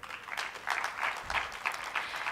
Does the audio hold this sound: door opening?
no